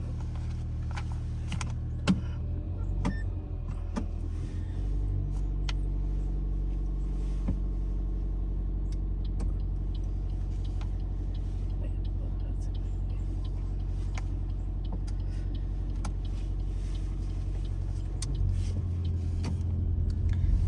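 A car pulls away during a driving test, a steady low engine hum inside the cabin with occasional faint clicks and ticks over it.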